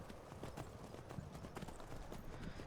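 Horse hooves clip-clop faintly in the Skyrim VR video game, a steady soft patter of steps set back in the distance under a low background hiss.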